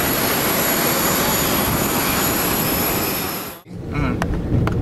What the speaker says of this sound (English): We will be taxiing for a few more minutes, so please remain in your seat.